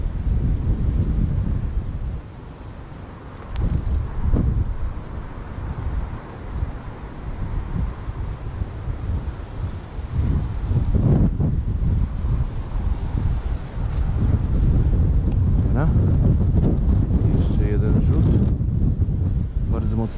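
Strong wind buffets the microphone beside a river during spring perch fishing, a loud continuous low rumble with gusty surges throughout.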